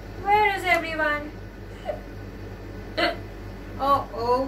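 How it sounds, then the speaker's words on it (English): A storyteller at a children's summer camp workshop voices a character's hiccups, giving short sharp vocal hics spaced a second or so apart between brief sung or spoken sounds. "Oh, these hiccups."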